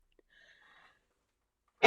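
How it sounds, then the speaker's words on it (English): A single sharp sneeze bursts out at the very end, loud and close, after a near-silent stretch with faint quiet sounds while working on a handbuilt clay vase. "Oh, I'm gonna sneeze."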